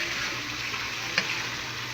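Jackfruit stirs in a pan over steady frying sizzle, the close hiss running throughout while a single brief scrape of the spoon stands out partway through.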